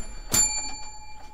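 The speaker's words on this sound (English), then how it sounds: "You're slacking on the bell activity. There's bells." A bell rings once, loud and bright, then decays into a sustained ringing tone with a couple of fainter echoing strikes.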